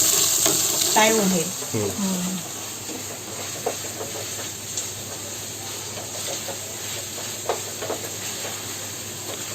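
Two onions drop into hot oil with green chilies in a pan for paneer rice, giving a steady sizzle and hiss that continues under a woman's brief speech near the start.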